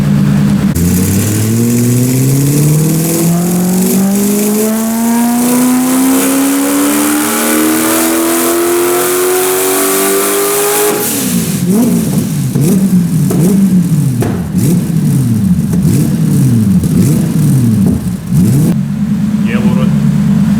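A stock 1UZ V8 with a turbo, fitted in a Nissan 200SX, revs on a dyno in one long rising pull that climbs steadily, then drops into rapid repeated blips and bursts, loud and close, with voices talking over it.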